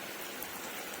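Heavy rain pours steadily on a national highway, a dense continuous hiss with no breaks, heard alone without voices.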